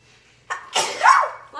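A single loud sneeze at close range, a short intake followed by a sharp burst, stands alone in a quiet indoor room.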